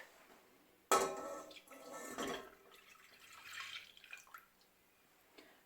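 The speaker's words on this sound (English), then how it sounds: "in a saucepan we're going to put 350 ml of whole milk." Whole milk poured into a saucepan in a kitchen: a sudden clink, then a soft, quiet liquid pour and trickle for a few seconds, close by.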